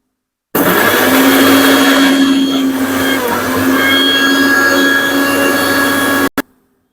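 An electric kitchen mixer grinds green chillies, ginger pieces and garlic into a coarse thecha, a loud steady whirring drone that runs continuously for about six seconds before cutting off abruptly with a brief click.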